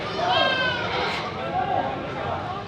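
Goats bleating at a livestock market in the Philippines, wavering calls rising over a busy background, with a person talking among them.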